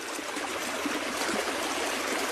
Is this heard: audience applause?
no